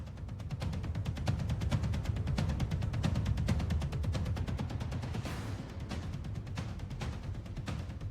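Rapid sharp reports of gunfire crackle over a low rumble during Ukrainian army practice with a German-supplied Leopard tank, steady and moderately distant.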